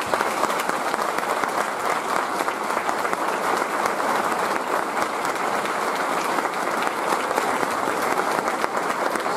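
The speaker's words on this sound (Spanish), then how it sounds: "voy a pedir que todos le demos un aplauso." A crowd at a school anniversary celebration claps continuously and enthusiastically, with dense, even applause filling the room from start to finish.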